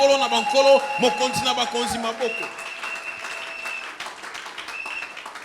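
A church congregation applauds and cheers in praise of the Lord, loud at first and then thinning, with voices and music mixed in among the clapping.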